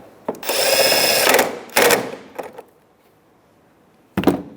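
A power drill spins a socket to tighten a taillight bolt on a 2002-2005 Ford Explorer, with one long whirring burst, a shorter second burst and a brief third, then a final short spin after a quiet pause.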